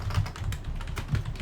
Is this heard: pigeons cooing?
no